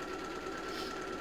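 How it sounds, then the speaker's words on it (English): A sewing machine runs steadily at a fast, even rhythm, a faint continuous whirring hum with no pauses and no talk. "I'm struggling to feel the sewing machine pedal"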